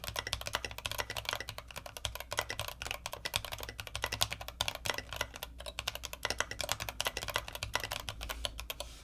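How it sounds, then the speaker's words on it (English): Steady, fast typing on an Idobao ID67 65% keyboard with Gateron Milky Yellow Pro switches and Kono ABS plastic keycaps: a dense run of crisp, hard-sounding clicks, close and fairly quiet, with no talking. "I'm just using the Gateron Milky Yellow Pro switches with the Kono ABS plastic caps from Apos Audio"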